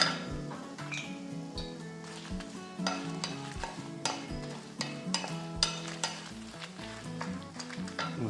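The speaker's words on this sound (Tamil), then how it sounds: "இது கொஞ்சம் கோல்டன் ப்ரௌன் வர வரைக்கும் ஃப்ரை ஆகட்டும்" Chana dal and coriander seeds frying in a pan for a Tamil tomato kuzhambu, a close crackling sizzle broken by regular stirring scrapes and light spoon knocks against the pan.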